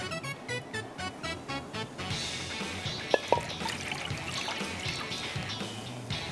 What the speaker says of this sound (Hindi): बोल में हम डालेंगे पानी